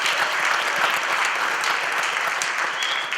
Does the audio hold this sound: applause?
yes